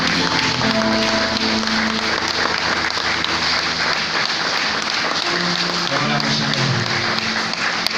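A church congregation applauds during a morning service. Clapping fills the space continuously, mixed with voices and sustained musical tones.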